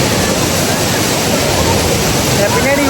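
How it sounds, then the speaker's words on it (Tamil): Heavy rushing roar of water at Thiruparappu waterfall, a dense, steady broadband wash that stays loud and unbroken throughout, with no clear speech over it. "Thirparappu water falls ஒத்துங்க."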